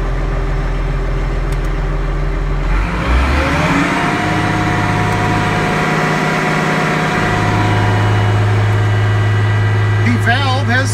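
An IH tractor engine running at low throttle while working a John Deere active downforce system, a steady low mechanical drone that shifts and settles after a few seconds, close and continuous, with brief clicks near the end.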